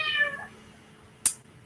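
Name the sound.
cat meowing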